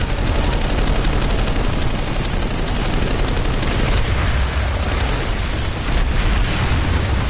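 Dense Planetside 2 battle noise with continuous gunfire and explosions blending into a loud, unbroken roar, no pauses between shots and no voices.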